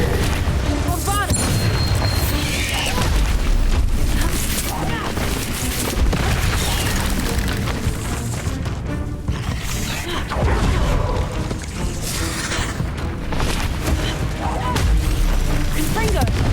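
Bombarda spell explosions in Hogwarts Legacy combat, heavy booming blasts mixed into a loud, continuous wash of battle effects and music, with a voice calling out spells.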